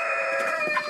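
Blue cuckoo rooster crowing once, a short, bright, strained call close by and fairly clear, with nothing else over it.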